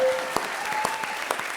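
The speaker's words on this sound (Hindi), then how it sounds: "ठोको ताली।" Studio audience applause on a comedy show, a dense burst of clapping close up with a few sharper claps standing out, carrying steadily through the short stretch.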